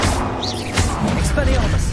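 Confringo fire spell striking a target in the video game Hogwarts Legacy, a brief loud crash with a crackling burst over dense game noise and low rumble, a second impact following soon after.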